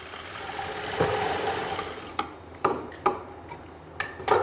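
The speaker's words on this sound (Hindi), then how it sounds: "देखो बिल्कुल सीधी सिलाई ले गए आप" A sewing machine stitches a straight seam on an angrakha-style umbrella kurti, running with a steady whir for about two seconds and then giving way to a few sharp, spaced mechanical clicks up close.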